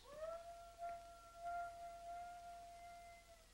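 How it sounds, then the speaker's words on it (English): Wolves howl in a 1930s frontier adventure film scene, a long sustained wavering howl with a higher overtone held across most of the moment, fairly faint against a soft background. "What's that? Wolves?"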